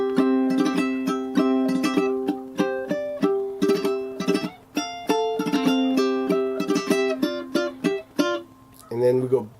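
Ukulele strumming Jingle Bells chords, bright plucked strums in a steady rhythm with clear ringing tones, close and fairly loud, ending with a brief change in texture.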